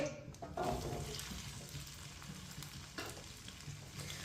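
Freshly cut okra hits hot oil in a pan, a quick splash-like burst then a steady soft sizzle and crackle at moderate volume, with a few stirring scrapes.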